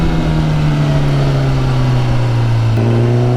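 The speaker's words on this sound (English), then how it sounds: "you have to downshift and rev match" A motorcycle engine blipped for a rev-matched downshift, heard as a loud, steady close-up engine drone with a slight rise in pitch near the end, with no talking.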